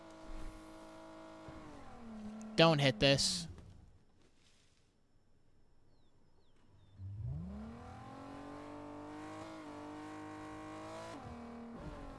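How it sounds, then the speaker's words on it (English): A car engine in the video game Fortnite revs and drives, with a sharp loud burst of acceleration, a lull, then the motor returning and holding a steady rising drone; a voice speaks briefly. "And there's a car."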